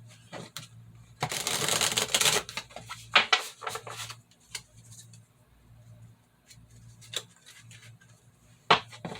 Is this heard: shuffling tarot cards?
yes